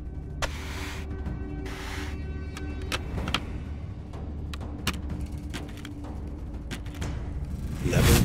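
Four motors drive a LEGO automatic bottle washing machine, a steady whirring hum with rattling plastic parts and repeated sharp clicks and knocks, close and continuous, rising into a louder burst at the end, without speech.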